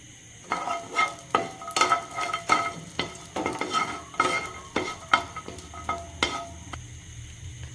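Cashews frying in ghee in a pan for ragi ladoo, with repeated rhythmic scraping strokes of a spatula over a soft background sizzle, close and fairly clear, no voices.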